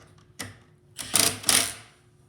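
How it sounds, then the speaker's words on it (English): An adjustable wrench turns a nut on a plastic snow plow, giving a few close, clicking ratchet-like rasps in quick bursts, brief and moderately quiet. "You can tell by my ratcheting sound there"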